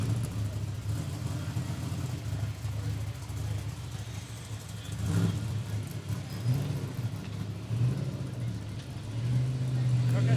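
Desert race trucks at the Toyo Tires Desert Challenge rumble and idle nearby, engines droning steadily with occasional revs as they roll up over constant background noise.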